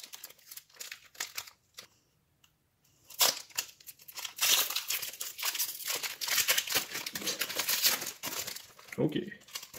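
Plastic wrapper of a 2019/20 CHL hockey card pack being torn and crinkled open, with sharp rustles that start sparse, then become a dense, close, continuous crackle, and someone speaks intermittently over it.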